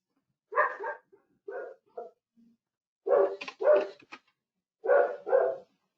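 A small pet dog barks nearby in several short bursts of two or three yaps, loud and sharp, with brief quiet gaps between them.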